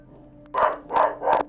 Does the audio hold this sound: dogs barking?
yes